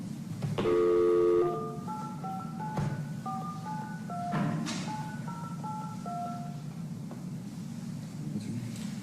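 A telephone is dialed for a call placed from a county courtroom, a steady run of short beeping keypad tones over low room hum, moderately quiet with no talk.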